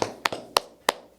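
A single pair of hands claps five times at an even, unhurried pace, each crisp slap close and distinct against a quiet room on a sports talk show.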